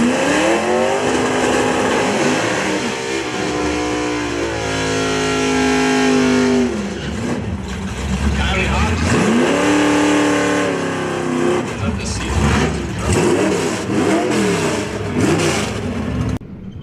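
Classic drag race cars at Toronto Motorsports Park accelerate down the strip in an old school matchup, a loud, sustained roar whose pitch climbs in repeated sweeps as each gear winds up, with no voices over it.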